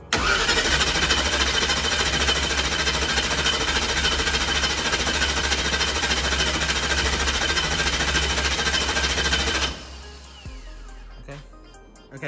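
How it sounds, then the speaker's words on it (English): A methanol-fuelled engine cranking over on the starter with the ignition off to prime the fuel system, a loud, fast, steady chatter lasting about ten seconds before stopping, followed by quieter clicks and handling noises. "we're just going to turn the motor over till I tell you to stop"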